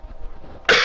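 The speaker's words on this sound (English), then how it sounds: "I got a cough." A single loud, close cough bursts out abruptly near the end, following a stretch of quiet background room noise.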